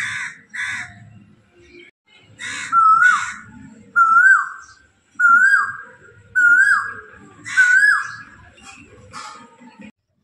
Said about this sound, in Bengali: এবার তোমরা একটু শুনে নাও কোকিলের ডাক